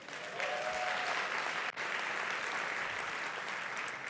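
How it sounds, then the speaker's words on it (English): Audience at a conference session claps steadily, a full room of even applause with a brief dip midway before the clapping resumes at the same strength. "Clap for me."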